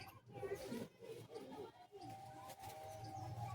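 Pigeons in a loft coo softly in short, low, repeated phrases, faint and close, with quiet human voices mixed in.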